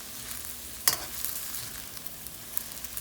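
Shrimp fried rice sizzling in a hot pan, a steady close hiss of frying broken by one sharp scrape or clatter and a few faint ticks, with no voices.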